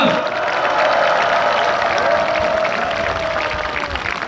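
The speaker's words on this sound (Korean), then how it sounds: "여러분 다시 한번 큰 박수 부탁드리겠습니다." Steady applause from a crowd at an outdoor rally of Seoul National University students and alumni, continuous clapping throughout with a sustained tone and crowd noise underneath.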